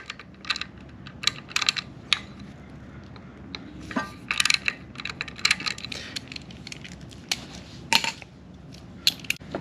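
A valve cover bolt is worked loose on a Honda H22 engine with a wrench, giving close, irregular metallic clicks and ratcheting taps over a quiet background.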